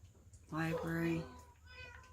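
A cat in the Minecraft game gives one clear, drawn-out meow up close, followed by a fainter, shorter second meow, with quiet room noise underneath.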